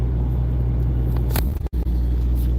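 A pickup truck engine runs at a steady, low, rumbling idle close by, struggling at a moderate temperature; the rumble wavers and briefly dips as it nearly stalls, then carries on.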